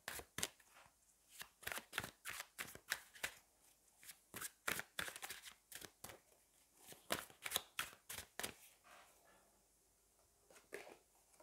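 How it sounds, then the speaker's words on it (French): Tarot cards shuffled and drawn by hand, a rapid run of crisp close flicks and slaps in uneven bursts, with short pauses between, no voices. "Je vais prendre une autre carte."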